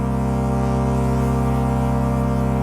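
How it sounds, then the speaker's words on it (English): Serum 2 synthesizer granular oscillator with warp mode and FM from another oscillator: a loud, sustained, buzzing drone with a dense stack of steady harmonics, holding unchanged from start to finish, with no talk. "We can add some FM from oscillator A to our granular sample."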